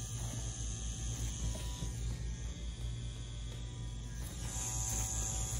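A tattoo machine buzzes continuously while pulling tapered lines, giving a steady, faint, low electric hum with a thin high whine that shifts slightly as the needle works.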